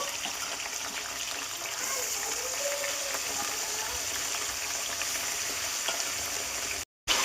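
Chicken pieces fry in hot oil in a kadai with whole garam masala and a little onion, giving a steady, close, even sizzle throughout, with a brief dropout near the end.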